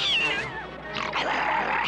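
A cartoon cat gives a loud, close meow with a wavering, sliding pitch, followed by a second rising, strained yowl, heard on its own without voices.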